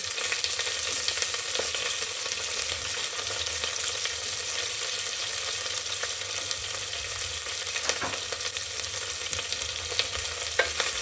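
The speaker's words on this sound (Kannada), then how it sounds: "ಈರುಳ್ಳಿ ಸ್ವಲ್ಪ ಫ್ರೈ ಆಗಬೇಕು, ಚೆನ್ನಾಗಿ ಗೋಲ್ಡನ್ ಬ್ರೌನ್ ಬರೋವರೆಗೂ." Onions and kasuri methi frying in a pan, a steady broadband sizzle running unbroken and fairly loud throughout, with occasional faint clicks of stirring and no talking.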